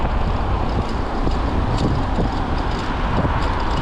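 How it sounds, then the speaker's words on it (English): Wind buffeting the microphone while riding a bicycle in road traffic, a loud steady broadband rush throughout with passing car noise blended underneath. "you can hear the wind"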